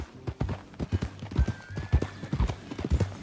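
Horse hooves clip-clop in a steady walking rhythm in Red Dead Redemption 2, close and clear through the whole stretch, with a faint tonal line in the middle.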